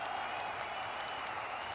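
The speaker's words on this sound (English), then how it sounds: "And the crowd goes wild." A crowd cheers and applauds in a steady, dense wash of noise that runs without a break for a short moment, fairly faint and with no clear voices standing out.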